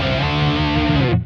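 Electric guitar played through a Kemper amp profile with effects switched off, a sustained distorted chord ringing loud and steady for about a second before being cut short.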